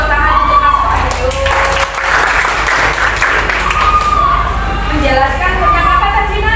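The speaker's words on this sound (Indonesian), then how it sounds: "Tepuk tangan untuk Mas Wahyu." A classroom of students applauding for a classmate, a steady, loud patter of clapping that carries on for several seconds with voices mixed in.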